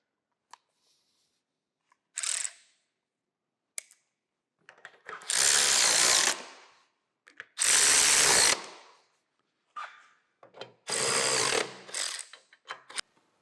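Power tool driving fasteners to tighten a bandsaw motor bracket during a restoration, in several loud bursts of whirring and ratcheting separated by short pauses and small clicks.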